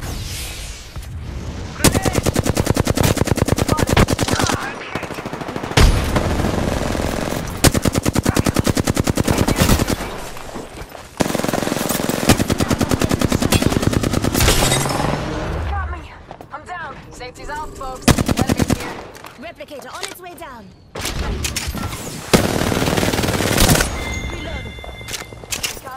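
Rapid bursts of automatic gunfire from the Apex Legends battle royale game, loud and close, repeating in long volleys with short pauses between them, while voices talk during the lulls.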